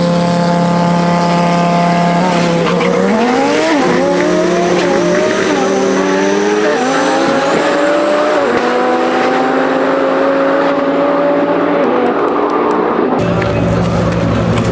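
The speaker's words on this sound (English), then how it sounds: "So we've got 2 Lamborghinis racing against each other" Two Lamborghinis with dual clutch transmissions drag race at TX2K 2024, their engines roaring and climbing through quick gear changes, loud and close at first before the sound pulls away into the distance.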